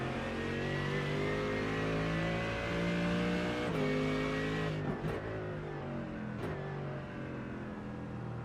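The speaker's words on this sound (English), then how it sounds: "the cars still drifting around on the wet tarmac" Race cars in a sim racing game drift on wet tarmac at Spa-Francorchamps, engines droning loud and steady with rising and falling pitch and a few sharp shifts, no voices.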